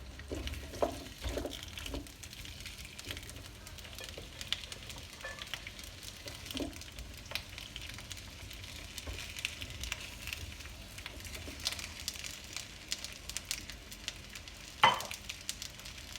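Sliced zucchini frying gently in oil in a pan, a soft steady sizzle with scattered crackles and a few stirring clinks, quiet and close with no talking.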